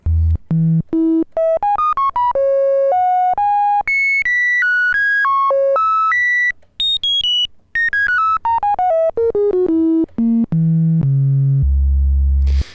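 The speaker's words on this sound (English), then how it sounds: "I love sine waves, so it's really fun to have this, a sine wave output" Pure sine tones from a Korg ARP 2600M synthesizer oscillator step up and down in a rapid melodic sequence, clean and loud, ending on a low sustained tone.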